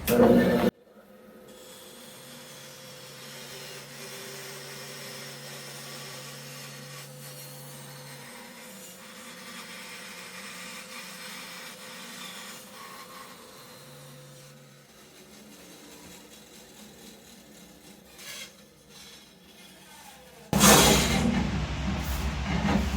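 A bandsaw blade hums and rasps steadily through wood for a long stretch, the cutting tone wavering, with a loud burst of noise at each end.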